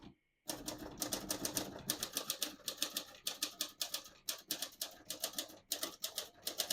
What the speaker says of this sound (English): So on this next line, I'm just going to type a sentence.